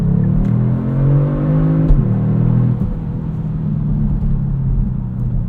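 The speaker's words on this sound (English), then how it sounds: "Let you listen to the sound with a little bit more of an aggressive exhaust note." A 2022 Kia Stinger GT2 AWD twin-turbo V6 engine rumbles and revs with a deep, aggressive exhaust note, rising briefly then settling into a steady throaty drone close by.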